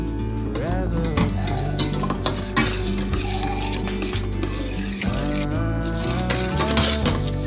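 A metal spoon scrapes and clinks against a cooking pot while firni is stirred continuously and sugar is added bit by bit, with a busy rhythm of close, loud clanks and faint background music.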